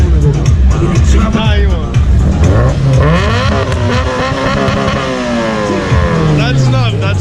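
A car revved hard at a Ratchet Friday car show, its loud engine roaring and sweeping up and down in pitch continuously and close by, with people shouting and talking over it.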